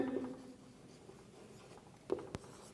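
Chalk or marker scratching across a board as a simple sentence formula is written in a Hindi-medium English grammar lesson, soft and close with a few brief louder strokes near the end.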